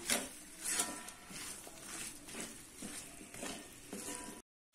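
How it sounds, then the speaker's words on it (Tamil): Mixed vegetables with salt being stirred in a frying pan, a steady sizzle and frying hiss overlaid with repeated scraping strokes of the spoon against the pan, close and continuous. "உப்பு போட்டு ஒரு கலக்கி விட்டுடலாம்."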